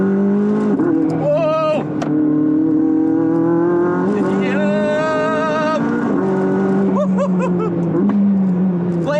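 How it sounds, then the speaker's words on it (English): A modified sports car accelerates hard on a track, its engine loud and close, pitch climbing through several gear shifts with brief drops between them. "with the modifications done to this car, the acceleration is absolutely out of this world"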